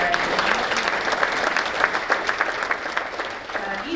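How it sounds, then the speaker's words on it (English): A meeting audience applauds in a steady, dense wash of clapping that fills the whole stretch, fairly close and loud, with no talk over it. "So one more round of applause for Ryan."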